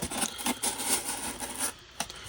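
Leatherman Wave Plus multi-tool blade cutting through cardboard, close scraping and rasping strokes in uneven bursts, quiet, with no talking.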